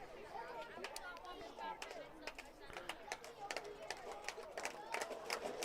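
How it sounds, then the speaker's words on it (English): Student section at a varsity high school football game, Thermopolis Bobcats vs. Lovell Bulldogs, clapping and rattling pennies in a milk jug, a steady crowd clatter with sharp hits under chatter and nearby talk. "Mixture of claps and pennies in a milk jug"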